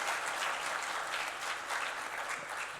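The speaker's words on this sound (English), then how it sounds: "a big applause to them." Sustained applause from a summit audience thanking panelists, steady dense clapping filling the whole stretch without a break.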